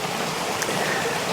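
Water pours steadily over a weir in autumn, a continuous broadband rush with a faint trickle in it and no voices.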